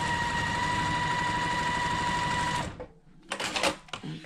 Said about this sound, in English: I'm sewing exactly on that line